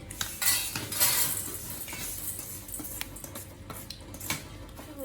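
A utensil scrapes and clinks against a pan and plate as crispy fried flattened rice is moved to another dish, giving busy metallic scraping and rattling close by with a faint sizzle underneath and no talking.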